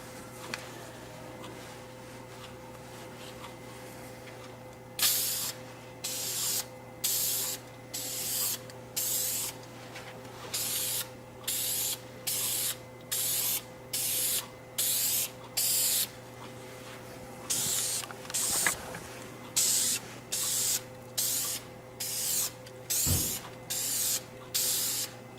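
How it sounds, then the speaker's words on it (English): Clear coat finish sprayed from an aerosol can onto a polished headlight lens, a run of about fifteen short, evenly spaced hissing bursts at close range over a faint steady background hum. "the last step is to use our clear coat finish"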